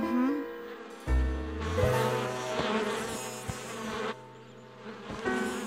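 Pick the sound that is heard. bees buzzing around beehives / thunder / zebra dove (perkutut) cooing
bees buzzing around beehives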